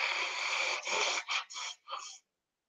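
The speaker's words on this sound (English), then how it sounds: "I'm going to be really gross and blow my nose." A person with a blocked nose blows it several times in quick succession, one long forceful blast followed by shorter honking bursts, close and loud, then silence.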